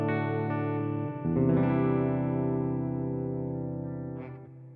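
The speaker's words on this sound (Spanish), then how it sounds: "vamos a desactivar la distorsión y el limpio sonaría pues tal que así" A clean electric guitar tone through a Line 6 Helix with distortion switched off rings out in sustained chords that change once and slowly decay, played alone without talking.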